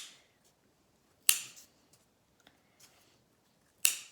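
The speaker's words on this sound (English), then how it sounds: "I can trim all these extra pieces here too, pretty close to where those knots are" Scissors snip the loose yarn ends of a woven circle mat, cutting close to the knots: two sharp, close snips about two and a half seconds apart, with a few faint clicks between them in a quiet room.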